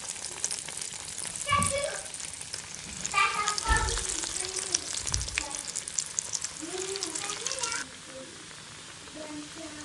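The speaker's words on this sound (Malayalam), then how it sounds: "ഇനി നമുക്ക് ഓരോന്നായി എണ്ണയിലിട്ട് ഫ്രൈ ചെയ്തെടുക്കാം." Bread pocket rolls frying one by one in hot oil, a steady close sizzle with occasional crackles and stirring, a voice speaking over parts of it before the sizzle drops off near the end.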